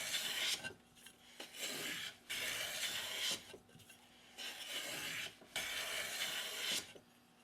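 WoodRiver V3 hand plane cutting wood shavings, a series of close, rasping strokes, about five passes of roughly a second each, separated by short pauses.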